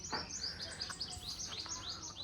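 Small birds chirping near a hanging clay water pot on a sunny farm, quick repeated high tweets, faint and somewhat distant, over low background noise with no talking.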